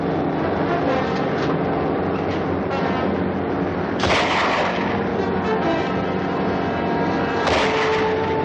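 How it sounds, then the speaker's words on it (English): A rifle shoots out a light in a video game. Two sharp, loud bursts ring out several seconds apart over a dense, constant wash of game sound. "Grab that rifle and shoot out the light."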